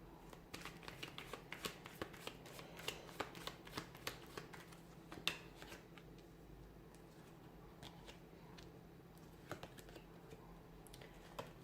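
A tarot card deck being handled and shuffled, giving soft, rapid papery riffles and light flicks that patter on steadily and quietly at close range with no talking.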